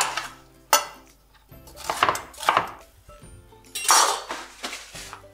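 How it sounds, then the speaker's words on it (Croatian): A knife chops bell pepper into small cubes on a board, giving a run of sharp, irregular chops and clinks at close range, with a few louder strikes spaced between quieter cuts. "Luk sam nasjeckala, idem sada i papriku, znači na nekakve kockice."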